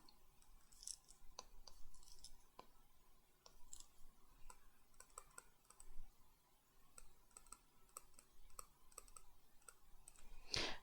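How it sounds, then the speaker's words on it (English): Fingers tap number keys on a calculator in quick irregular clicks, faint and close in a quiet room, with no one talking. "if you type them in your calculator, this is what you get."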